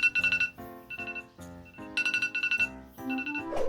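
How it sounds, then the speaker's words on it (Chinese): An iPhone alarm ringtone plays a bright, repeating electronic melody in quick bursts of rising tones, loud and close, with no voices over it. "一般人的闹钟听起来是这样的"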